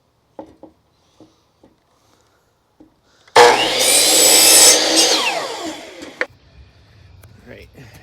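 A table saw rips through rough-cut wood boards in one loud cut lasting about two seconds, with a rising whine that then winds down. A few soft knocks come before it, and quieter handling noise follows.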